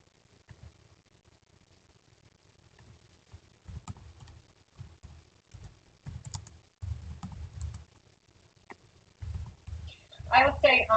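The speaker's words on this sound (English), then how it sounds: "All right, I'm typing, and I'm not super fast." Keys clicking on a computer keyboard during an online school district committee meeting, soft irregular bursts of tapping that are close and fairly quiet, with a louder burst near the end.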